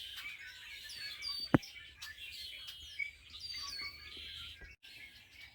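Birds calling at the Cowichan Estuary, with scattered chirps and tweets at a moderate distance, one sharp nearby knock or snap, and quiet outdoor background between calls, no talking.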